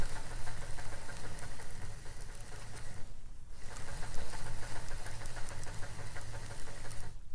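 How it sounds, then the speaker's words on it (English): Cheap monofilament fishing line is spooled onto the back of a fishing reel, a continuous whirring, buzzing drone with a fast mechanical flutter, briefly dipping midway, then resuming steadily, close and alone without talk. "I'm going to put a good little bit here of this cheap monofilament on the back end of this spool"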